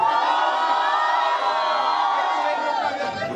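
A large crowd at a Halloween rap battle cheering and shouting loudly and continuously, a dense wall of voices and whoops filling the space.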